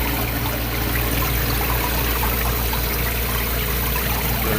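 Water streams steadily over the evaporator of a Hoshizaki ice machine partway through its freeze cycle, a continuous close trickling wash with a low mechanical hum underneath and no voices.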